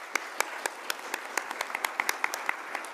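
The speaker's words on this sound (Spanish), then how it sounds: "Un aplauso para ellos, por favor." Sparse clapping from a small audience at a book fair panel, a dozen or so separate sharp claps spread across a few seconds, fairly quiet and without cheering or talk.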